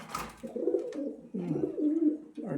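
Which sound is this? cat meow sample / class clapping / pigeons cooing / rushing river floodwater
pigeons cooing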